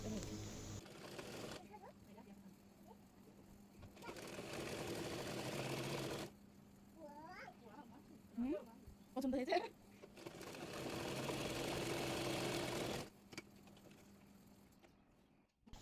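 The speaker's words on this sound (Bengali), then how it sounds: "একইভাবে অপর পায়ের মোহরিটিও সেলাই করে নেব।" A sewing machine stitches a salwar leg hem in three steady whirring runs of a few seconds each, separated by quiet stretches where someone speaks.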